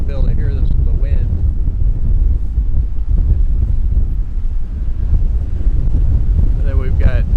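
Strong wind roars steadily across a microphone aboard a sailboat anchored during Hurricane Nicole, a dense, continuous low rumble with brief voices talking at the start and end.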